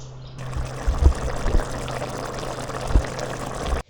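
Cornflour slurry poured into stir-fried mixed vegetables in a pan, a soft steady liquid pour and trickle over a low hum, with a few light clinks of utensil on pan.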